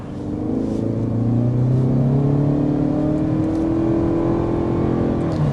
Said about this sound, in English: we're speeding up to 55 miles per hour so we can get our official Kentucky sound level reading